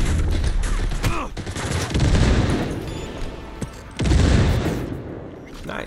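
Gunfire and a grenade blast in Cyberpunk 2077 combat, loud and chaotic with repeated shots and heavy booms, including a strong low thump near the end.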